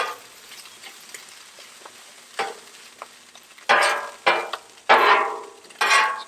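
Chicken cooking on a griddle for street tacos, a steady sizzle with light scraping, then several loud spatula scrapes and bursts of frying as the meat is turned.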